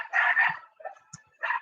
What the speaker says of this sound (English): The dogs have alerted me.